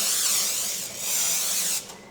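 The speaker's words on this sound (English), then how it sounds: "so first we're going to spray down" A steady hissing spray of aerosol cooking oil onto a baking sheet, continuous for about two seconds and briefly easing midway, close to the microphone.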